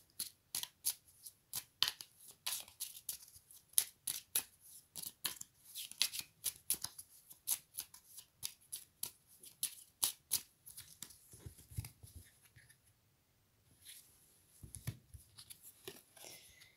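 Tarot cards are shuffled close up in quick, crisp bursts of riffling and flicking, a rapid run of sharp papery snaps followed by a short pause and a few slower shuffles, with no talking.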